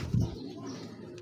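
A large red Chali pigeon gives a single short, low coo close by, loudest near the start, with faint background rustle for the rest of the brief moment.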